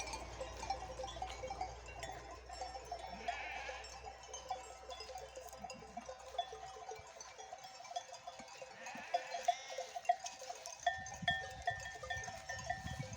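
Faint, distant bleats of a lamb and other sheep or goats rise now and then over a quiet outdoor hush with a light cowbell-like clink, several wavering calls spread across the span.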